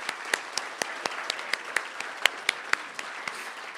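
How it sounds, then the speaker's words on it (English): An audience at the 2021 Fort Worth Neighborhood Awards ceremony applauds with sparse, moderately loud individual claps that stand out sharply over a soft bed of scattered clapping. "Please, please give another round of applause to all of them."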